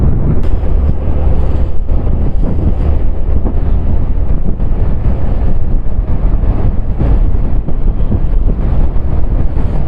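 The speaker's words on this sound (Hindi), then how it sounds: "हवा का फ्लो बहुत तेज हो चुका है यहाँ पे।" Strong, cold mountain wind roars steadily and close as a scooter climbs slowly uphill through the Lahaul Valley between Keylong and Deepak Tal, a continuous low buffeting rush with no speech.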